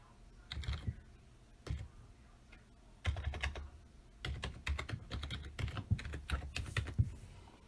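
Password keystrokes tapped on a computer keyboard, in bursts of quick, close clicks separated by short pauses, with no talk.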